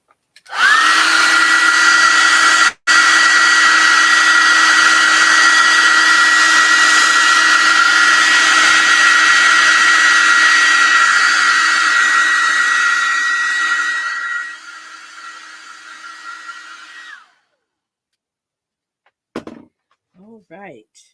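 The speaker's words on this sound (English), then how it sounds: "I want to hit this black with the hair dryer so I know what's wet." A hair dryer blows loudly and steadily with a high whine, briefly cutting out once, then winding down and stopping, followed by quiet.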